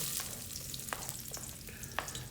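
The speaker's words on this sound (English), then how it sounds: "when she puts the ginger, it pops and sizzles" Ginger sizzles in hot oil with a dense, crackling hiss and a few sharper pops, up close and fairly quiet, with no voices.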